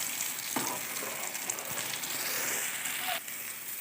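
Egg fries and is broken up in a pan for carrot halwa, a soft, continuous sizzle with a few faint scrapes and taps, fairly quiet and without voices.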